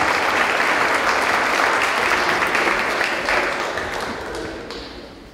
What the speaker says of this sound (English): Let's give these young folks a big round of applause.